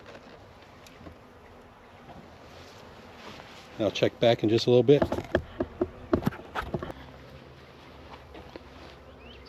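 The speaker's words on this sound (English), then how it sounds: "I'm just going to set the rest of these bees here." Honeybees just arrived and being set into their hive, giving a faint low buzzing that swells into a louder, busy humming burst midway, with thumps of handling and someone speaking over the top before it thins out.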